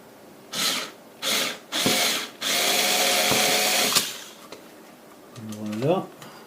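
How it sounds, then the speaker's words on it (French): A cordless electric screwdriver drives screws into a retrogaming build project in short close bursts, whirring up and stopping, then one long steady run, with a brief voice at the end. "on va se faire ça à la visseuse"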